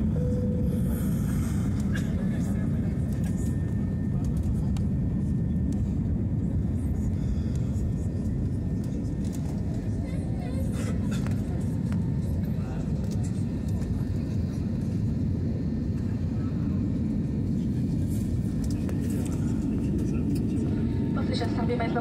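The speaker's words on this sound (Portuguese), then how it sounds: "Acabou de subir o avião." A steady, loud, low roar of an airplane cabin just after takeoff fills the whole stretch without letup, with faint murmuring voices mixed underneath.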